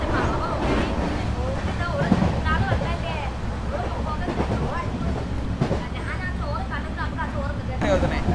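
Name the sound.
Antyodaya Superfast express train running at speed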